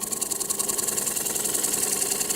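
A Woodcut Little Wonder cup tool makes a gentle cut in wood, giving a steady, close whirring hiss with a faint rhythmic pulse that runs without a break and with no voices.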